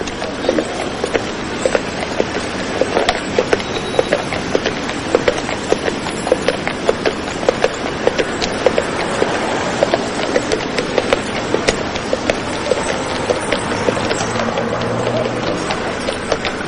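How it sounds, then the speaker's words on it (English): Horses' hooves clip-clopping steadily on a city street as they pull beer carts, a loud, even rhythm of hoof strikes close by that continues throughout over faint traffic noise. "You don't hear that very often, but these horses do a very useful job"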